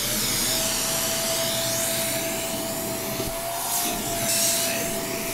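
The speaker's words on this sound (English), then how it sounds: "So what we're gonna do is detail the interior by vacuuming it." A powerful vacuum cleaner works inside the interior of an Air Jordan 3 sneaker during a restoration, making a steady, loud broadband whine with a constant tone and scratchy rubbing as the nozzle scrapes the shoe, with no talking.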